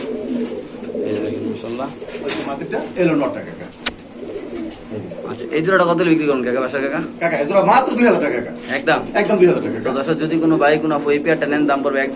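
A white Beauty pigeon coos in soft, rolling bursts beneath someone talking almost continuously, with other birds faintly chirping in the background.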